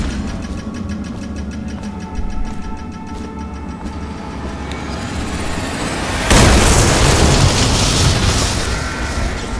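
Explosives detonating during a prison escape in the video game Dishonored: a steady background of game sound and low hum suddenly broken by a loud blast that rolls into a long rumbling roar, no voices.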